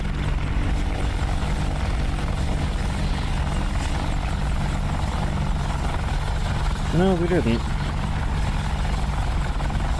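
An AH-64 Apache helicopter in the DCS flight simulator game fills the scene with a steady rotor and engine drone, loud and continuous, with a brief voice speaking over it.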